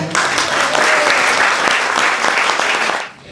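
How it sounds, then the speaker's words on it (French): A literary evening audience in Paris breaks into loud, sustained applause for writer Vladimir Fedorovski, a dense, even wash of clapping that fades away at the very end. "que je vous demande d'applaudir"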